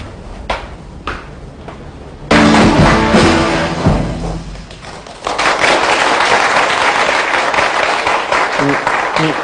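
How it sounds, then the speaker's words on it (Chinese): An indoor audience breaks into loud applause for a song, a dense clapping burst that eases and then swells again, with a few thumps near the start. "你们别鼓掌了，我这首歌没唱完"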